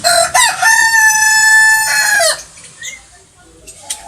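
A rooster crows loudly and close by in one long, strained cock-a-doodle-doo lasting about two seconds, followed by quieter clucking and faint background sounds.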